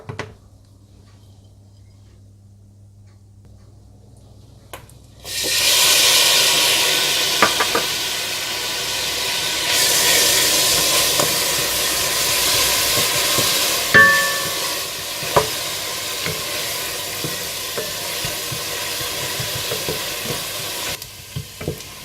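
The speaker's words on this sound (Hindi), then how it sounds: "सबसे पहले आप मक्खन गरम करें और इसमें पिसी हुई प्याज डालकर हल्की सी ब्राउन कर लें" Ground onion frying in hot butter in a pan, a steady loud sizzle that starts abruptly after a quiet moment and continues with occasional stirring clinks.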